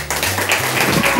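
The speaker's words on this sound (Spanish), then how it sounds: "pues un aplauso para ella." A studio audience applauds on a Spanish television show, loud and continuous across the whole moment, with dense overlapping claps and no gaps.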